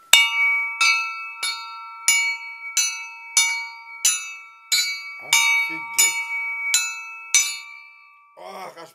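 Eleven clear ringing strikes of glass against glass, evenly spaced, each chiming with a bell-like tone and decaying before the next; a voice speaks briefly at the end.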